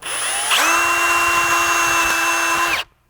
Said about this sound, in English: I'm just going to kind of use like a 1/4-inch drill bit here as a pilot hole